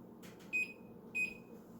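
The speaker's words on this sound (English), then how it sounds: "And I will set a timer for 5 minutes." Kitchen timer set while cookies bake in an oven, two short sharp beeps spaced about half a second apart over a faint quiet room background.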